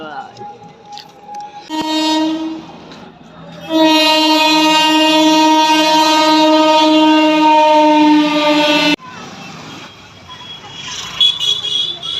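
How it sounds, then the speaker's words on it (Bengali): A high-speed through train passes a station, sounding a loud, sustained horn that blares for several seconds and cuts off abruptly, with rumbling rail noise and distant chatter around it. "স্টেশনের মধ্যে একটা থ্রু ট্রেন যাবে এখনই খুব হাই স্পিডে"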